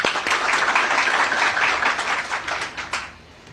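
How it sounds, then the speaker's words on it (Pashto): Audience applause for a speaker at a remembrance gathering for Khan Shaheed Abdul Samad Khan Achakzai in Kandahar, dense steady clapping from a crowd that fades out toward the end. "ښاغلی حکمت الله افغان چکچکې ورته کوو"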